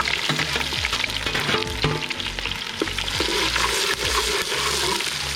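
Mustard seeds and chopped onion fry in hot oil with a steady close sizzle, broken by the scrape and clatter of a spoon stirring them around the pan, for a Kerala tapioca and tuna head curry.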